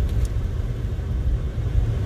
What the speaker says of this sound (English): My car is just shaking like crazy.